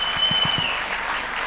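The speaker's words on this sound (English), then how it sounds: "give a round of applause" Applause at an evening training awards ceremony, a steady, fairly close burst of many hands clapping that holds evenly throughout, with a few low thumps near the start.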